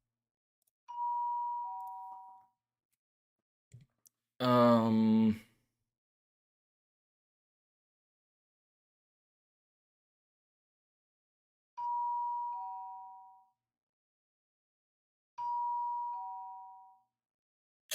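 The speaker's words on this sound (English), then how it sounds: "He's hitting the doorbell." A two-tone electronic doorbell chimes three times at spaced intervals, clear and close, with a short burst of speech between the first and second rings.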